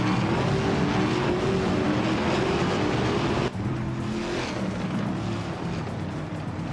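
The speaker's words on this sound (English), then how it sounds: "Ingle McCringleberry's car is a Ford Mustang, starting from 11th place." Ford Mustang race car engine roaring at sustained high revs mid-race, loud and close with steady harmonic drone and a brief gear-change dip partway through.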